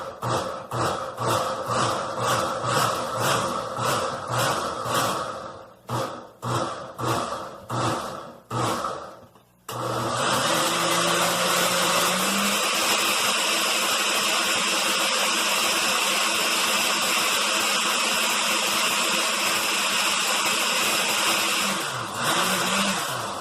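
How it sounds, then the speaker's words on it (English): A kitchen countertop blender chops soaked almonds with water for homemade almond milk, first in about a dozen short rhythmic pulses, then in a steady, loud, close whir of continuous blending. "I'm not going to make you sit here for 2 minutes and listen to my blender"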